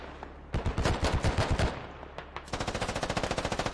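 Gunfire in the military shooter Squad, fighting around a fortified building: two dense bursts of rapid automatic fire, loud and sharp, the second a steady rattling stream of shots.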